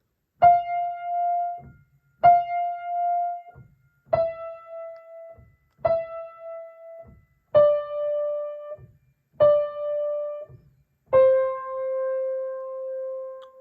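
Seven clear, sustained piano tones in slow succession, each struck then held briefly, stepping gradually downward from F, played alone with no talking.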